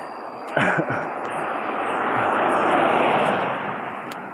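Broad, rushing roar of an airplane engine recorded just outside an aircraft window, opening with a couple of thumps before settling into a steady, slowly swelling drone that fades slightly at the end.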